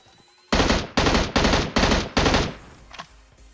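Uzi and M4 gunfire in a shooting video game: five loud bursts of rapid automatic fire in quick succession, followed by a couple of fainter shots trailing off.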